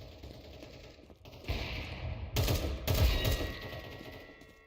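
Valorant match gunfire with a sniper rifle in play: a few loud, sharp shots and bursts over steady game ambience, close and clear, no talking.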